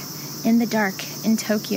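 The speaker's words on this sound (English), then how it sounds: "I hope you can hear the cicadas in the background." Cicadas drone on a warm evening outdoors in Tokyo, a steady high-pitched buzz that runs unbroken through the whole moment while a person speaks close by over it.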